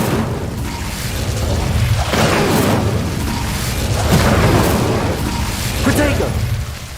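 The Incendio fire spell cast in the Hogwarts Legacy video game, heard as loud, rolling whooshes and fiery bursts that swell and fade in repeated waves, with a voice shouting over the effects.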